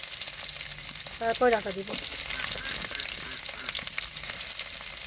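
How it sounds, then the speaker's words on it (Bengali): Pointed gourd and eggplant fry in a pan with a steady sizzle and stirring scrapes, while a voice speaks briefly near the start. "পটল দিয়ে দিলাম, বেগুনও দিয়ে দেবো। এগুলো ভালো করে ভেজে নিয়ে"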